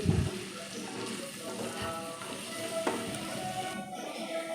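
Onions sizzle steadily in hot oil in a pan while cooking for a paneer curry, a continuous close hiss with a stir or clatter at the start and faint scraping throughout.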